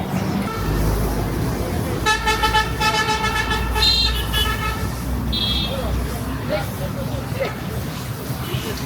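A motorbike on a test ride after servicing, moving through steady road traffic with a continuous engine and road rumble, and a car horn tooting several times partway through, with people talking faintly.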